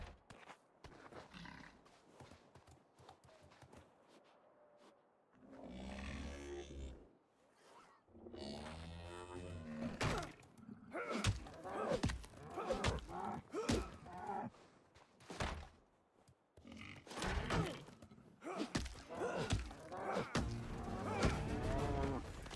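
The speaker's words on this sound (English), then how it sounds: "We'll see if this cow attacks me" Cattle in RuneScape: Dragonwilds give several loud, drawn-out moos, some overlapping, spread through a stretch of game ambience with short breaks of quiet between calls.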